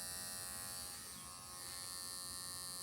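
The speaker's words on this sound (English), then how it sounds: "I like these are Merlin's clippers." Cordless dog hair clippers buzz steadily and close up with a constant high-pitched electric hum, running alone for about three seconds with no talking.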